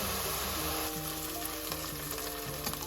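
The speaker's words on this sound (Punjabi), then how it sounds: "ਪਿਆਜ਼ਾਂ ਨੂੰ ਭੁੰਨਾਂਗੇ ਚੰਗੀ ਤਰ੍ਹਾਂ" Onions frying in a pan for a Punjabi-style fish curry, a loud, steady close-up sizzle with faint stirring scrapes and no talk.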